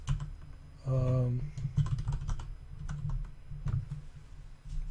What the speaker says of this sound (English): I just need to type in